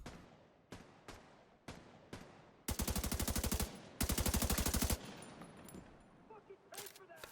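Gunfire in The Division 2: several single sharp shots spaced out, then two long loud bursts of rapid automatic fire, followed by a few scattered shots and game sounds.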